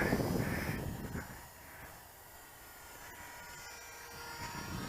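Jasco Spotter RC biplane engine droning in flight during its maiden outing, a faint, distant buzzing that rises and falls slightly as the throttle opens.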